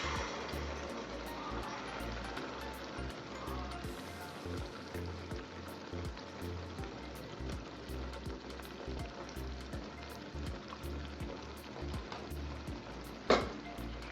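Gravy from a tin of fish being stirred into chili paste frying in a pan, producing a steady close sizzle with soft stirring scrapes and one sharp clink near the end, no talk.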